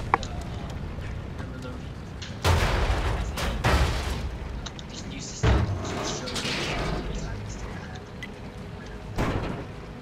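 Tank cannon shots boom out in World of Tanks, three or four heavy blasts with short rumbling tails spaced a few seconds apart, while someone talks throughout.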